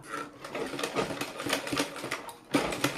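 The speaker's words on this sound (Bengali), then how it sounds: "এভাবে আরও কয়েকটা পট্টির কাপড় সেলাই করে নেব" Sewing machine stitching strips of fabric for a blouse neckline, its rapid mechanical whirr running steadily and close, with brief pauses in the rhythm and a stronger burst near the end.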